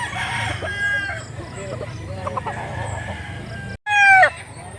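A bullstag rooster at a rural Cebu poultry market crows loudly and close by near the end, a rising harsh call after a steady murmur of clucking fowl and distant voices.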